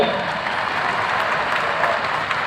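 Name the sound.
applause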